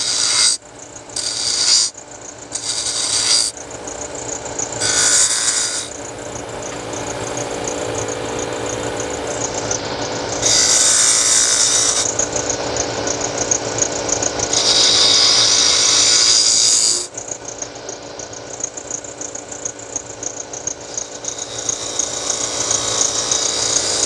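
Wood on a lathe is cut by a gouge for inside-out turning, giving a steady whirring hum broken by several bursts of harsh scraping and cutting noise of varying length, close and fairly loud, with no speech.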